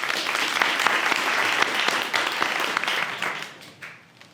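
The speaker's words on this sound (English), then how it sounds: "please a round of applause for your next presenter from Arcam Technologies" Audience applause at an offshore wind startup pitch event, sustained and dense clapping across a crowd that fades out toward the end as the next presenter takes the stage.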